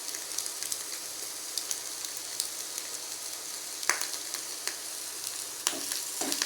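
Eggs frying in a pan with a pinch of turmeric, a soft, continuous hiss and crackle of oil with occasional sharper pops and spatters, close and steady.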